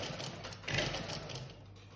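A sewing machine stitches a side seam, running a close, continuous mechanical whir that briefly swells before settling back.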